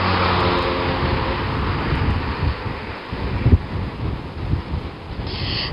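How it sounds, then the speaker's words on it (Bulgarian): Strong wind buffets a microphone outdoors in Sofia, Bulgaria, with heavy rumbling gusts that surge and ease, plus a sharp thump midway; no talking. "поривите на вятъра наистина са много силни"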